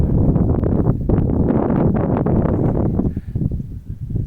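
Strong wind buffeting the microphone on a hilltop above Vernègues, a steady loud roar with gusty rustling that eases slightly near the end.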